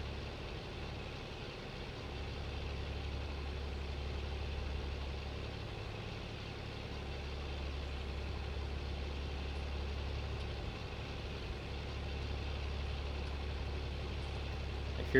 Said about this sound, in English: Feels good to be back in a tractor again.